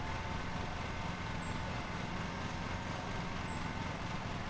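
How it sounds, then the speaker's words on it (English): Steady drone of a lawnmower engine in the video game Lawn Mowing Simulator on Xbox Series X, heard from a distant camera view, continuous and even with faint chirps over it. "I'm not getting the full lawnmower sound being this far up."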